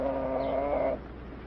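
A thin rooster in a 1940 film gives a brief, close, tonal call lasting about a second, then falls quiet against a faint background hiss.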